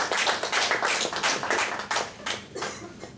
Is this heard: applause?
yes